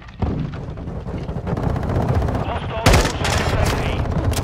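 Gunfire in Modern Warfare II during a 20v20 Invasion match on Sarrif Bay, rapid automatic bursts and booming shots crackling continuously, loud and close, with a heavy blast near the end and voices under the din.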